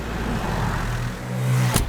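A car drives along in a film scene, its engine a steady low rumble that swells near the end, with a brief swish as it passes close.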